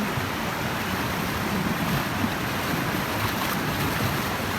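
Loud, continuous rush of churning floodwater in a Pennsylvania creek with whirlpools, a dense roar with no breaks or voices.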